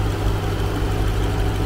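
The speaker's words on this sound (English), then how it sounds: "Massive engine." A Jeep Grand Cherokee Trackhawk's large engine idles with a steady, deep, low rumble and mild vibration, close and continuous with no talking.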